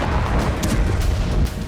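A bombing strike on a Russian military base in Damascus, Syria: a heavy, loud, continuous low rumble of blast and burning that fills the whole moment, with no voices.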